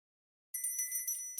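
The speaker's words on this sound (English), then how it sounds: "The bell's been ringing for a while." A bright, ringing bell in a video game starts abruptly after a silent moment and chimes in a few quick, sustained strikes, fairly faint and alone.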